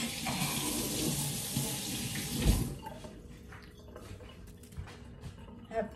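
Water from a running kitchen tap splashes steadily while a carrot is rinsed under it, a soft continuous wash that fades after a few seconds into quieter handling and faint background noise.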